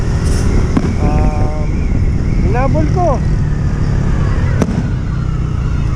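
Fireworks crackle and pop amid loud outdoor commotion at night, with a sharp bang near the end and voices shouting in the background.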